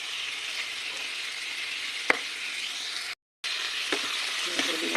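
Mung bean dish frying in a pan, with a steady bright sizzle throughout, a few sharp clinks, and a brief gap of silence partway through.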